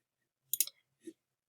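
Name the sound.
mouse clicking on a button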